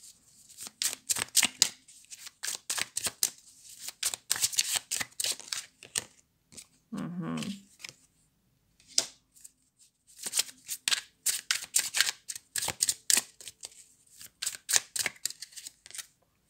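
Stargate tarot cards are shuffled in rapid crisp riffles and flicks, coming in bursts separated by short pauses, close and fairly quiet, with a brief low soft thump near the middle.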